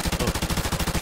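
Rapid, evenly spaced Desert Eagle pistol shots in Counter-Strike, a loud burst of about a dozen punchy reports in quick succession with no talking.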